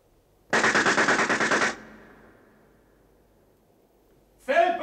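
A rapid burst of automatic gunfire at a shooting exercise in a 1984 Soviet radio drama, about a second of loud rattling shots that cut off into a fading echo, then a voice begins speaking.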